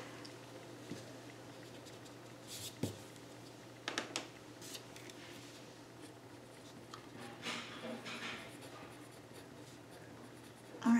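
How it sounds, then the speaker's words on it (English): A pen writes out a math problem on paper nearby, giving soft scratchy strokes in short bursts with pauses, faint and without talk. "So let me just write that down."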